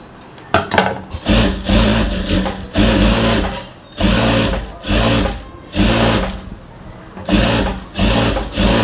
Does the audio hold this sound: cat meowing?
no